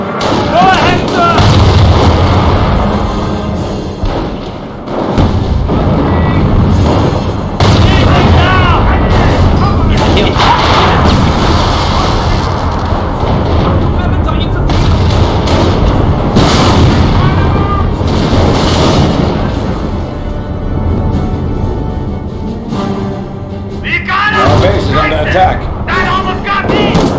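Heavy gunfire and booming explosions fill a Company of Heroes battle, loud and continuous with repeated blasts and shots, while soldiers shout over the din.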